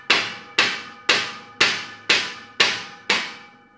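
Seven evenly spaced hammer taps knock a plywood stable divider panel into place, each a sharp, close, ringing knock that decays quickly, with no talk.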